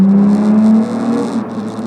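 A 2005 Nissan Altima SE 3.5 drives through a tunnel, its engine and road noise forming a steady, enclosed drone that is loudest at first and then eases slightly. No one speaks.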